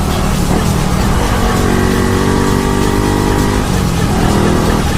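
Honda motorcycle engine fitted with a Wave 110i ECU box revs loud and close, a steady roaring drone with rising and falling pitch as the throttle is held and released.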